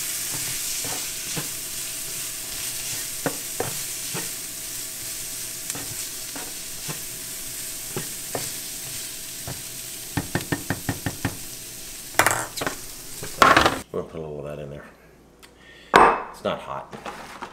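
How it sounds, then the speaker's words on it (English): Food mixed with hot sauce in a pan, stirred with a steady frying hiss, a run of quick utensil taps against the pan, then louder scraping knocks near the end, close and without speech. "Mix it together."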